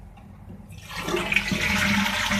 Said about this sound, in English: first we will flush the toilet